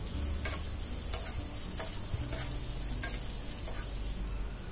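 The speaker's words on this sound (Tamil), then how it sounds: "வெங்காயம் பூண்டு நல்லா வதங்கி வெந்து வரணும்." Chopped onion and garlic sauté in a pan for Tamil garlic rice. A steady soft sizzle runs throughout, with light stirring clicks of the utensil against the pan.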